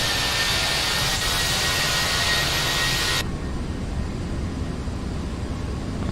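Airbus A321 jet engines at takeoff thrust in a flight simulator, a loud, steady broadband roar; the upper hiss drops away partway through while the low rumble carries on.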